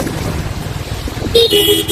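A car horn honks a couple of short times amid the steady rumble of nearby road traffic, heard from a motorcycle in Sapa, Vietnam.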